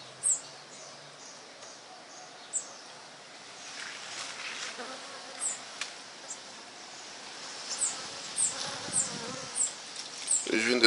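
City honey bees buzz in an agitated swarm, a steady dense hum with sharp nearby passes flaring up repeatedly, especially toward the end.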